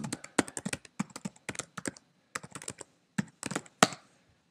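Fingers tap rapidly on a computer keyboard in quick bursts of clicky keystrokes, typing a domain name into an SEO tool, with short pauses between runs and near-silence at the end.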